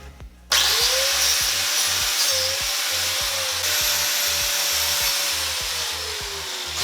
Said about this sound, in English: we're going to run our wire wheel on this thing, get that surface rust cleaned up